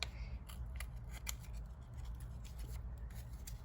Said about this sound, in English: I'm just cutting right on the dotted line like that.